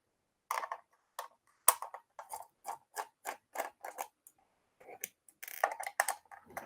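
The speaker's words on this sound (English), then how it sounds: "Then you're just going to take your screwdriver." A screwdriver works screws out of a gaming mouse, a series of small, quiet clicks and ticks spaced evenly through a soft, near-silent background, growing busier toward the end.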